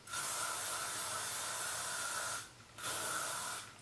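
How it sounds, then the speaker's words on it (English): Hairspray sprayed onto a freshly curled section of hair in two bursts: one long steady hiss of about two and a half seconds, a brief pause, then a second shorter spray, close up with no talking. "I'm going to add hairspray to this section."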